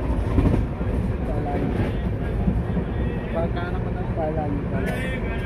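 Inside a moving passenger train in India, travelling toward Jalgaon: a loud, steady rumble with rhythmic wheel clatter fills every moment, and voices murmur faintly beneath it.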